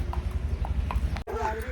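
Hooves of a Marwari stallion clop on the ground in an uneven walking rhythm while the horse is ridden outdoors, fairly close, with a steady low rumble of wind or handling noise underneath.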